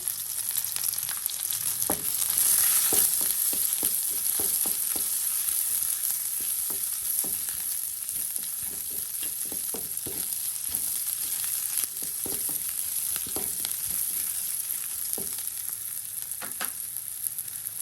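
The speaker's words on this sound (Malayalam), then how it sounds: "നമുക്കിനി ഇതിലേക്ക് ചെറിയ ഉള്ളി ചേർത്ത് കൊടുക്കാം." Small shallots sizzling in hot oil in a pan while cooking for puttu, a continuous close crackle with scattered light taps and stirring sounds, no voices.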